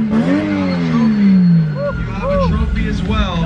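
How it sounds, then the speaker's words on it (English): A 700 bhp car engine revs up and drops back, loud and close, with people talking over the exhaust note. "Can you rev it?"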